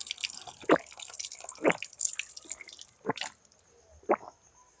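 Water dripping and splashing from a drinking-water tap at the Mansa Devi temple, with scattered close drops and short wet bursts against a hiss of running water.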